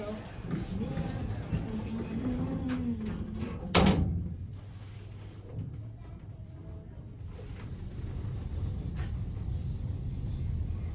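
Doors of a 1964 ASEA Graham elevator in the Åhléns City department store in Stockholm slide shut with a brief thud partway through, over a steady hum and faint background talk.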